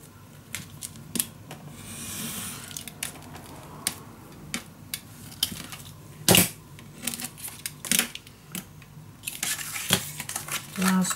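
Paper being folded and cut with a craft knife while making a baby mini album, giving scattered soft crinkles, scrapes and sharp clicks at close range with quiet gaps between them.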